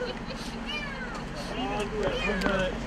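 A rescued kitten meows in several thin, rising calls beside a sewer in South Los Angeles, fairly faint beneath a steady engine hum and voices of firefighters and police talking.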